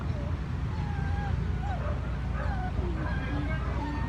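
Rescued dogs packed in a van whimper and cry with high, wavering whines over a constant engine rumble and a murmur of background voices.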